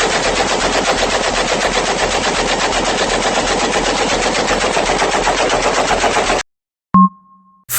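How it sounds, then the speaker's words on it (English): A belt-fed machine gun in a runaway malfunction fires continuously in a loud, unbroken stream for about six seconds, then stops abruptly and leaves a brief ringing tone. "a belt-fed machine gun can sometimes malfunction to where the trigger locks up, so even if you let go, it's still dumping rounds"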